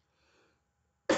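After a faint stir and a pause of quiet, one sharp, loud cough bursts out close by at the very end.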